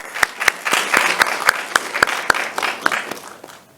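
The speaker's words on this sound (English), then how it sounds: "a round of applause for our judges one last time" An audience at a hackathon awards session gives its judges a round of applause: a dense, steady wash of clapping with sharp individual claps standing out, holding for several seconds.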